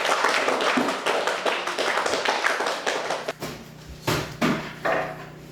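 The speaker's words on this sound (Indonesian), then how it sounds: "Kasih tepuk tangan untuk kelompok 4" Classroom applause for a student group at an Indonesian primary school, a dense run of clapping that thins into a few scattered claps near the end.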